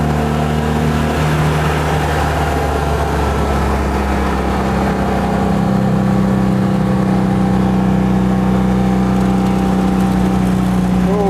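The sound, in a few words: Citroën 2CV engine at full throttle in second gear climbing a hill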